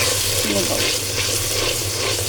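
Spice masala for beef curry fries over medium heat with a dense, continuous sizzle and faint stirring scrapes, close and loud, while a voice briefly speaks over it.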